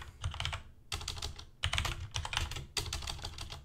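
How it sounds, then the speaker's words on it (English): Rapid clattering keystrokes on a computer keyboard, typed in several quick bursts with short pauses between them, close and moderately quiet, with no voices. "If I can type"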